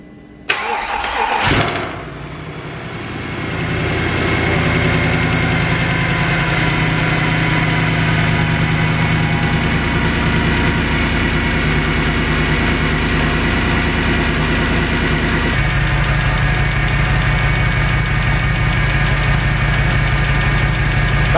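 A salvage Mercedes C63 engine cranks and fires after a short click, then settles into a loud, steady idle with a deep rumble that drops slightly in tone partway through.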